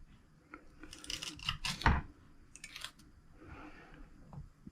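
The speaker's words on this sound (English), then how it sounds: "I'm going to core and dice a jalapeno." A knife cores and dices a jalapeno on a cutting board, with a cluster of crisp slicing crunches and taps in the first half, then a few softer cuts, close and alone.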